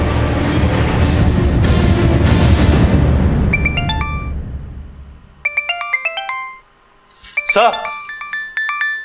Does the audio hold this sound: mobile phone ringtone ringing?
yes